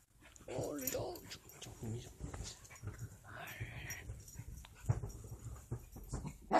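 A Yorkshire terrier whimpers and pants in soft, uneven bursts close by, while someone talks over it throughout.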